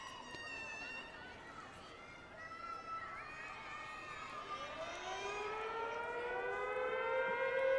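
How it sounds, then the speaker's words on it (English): Rising siren wail opening gymnastics floor music at a college meet, Arizona at Iowa State, climbing in pitch and swelling louder over a steady arena crowd murmur. "Instead of the beat, they're now doing the siren, and the girls love it."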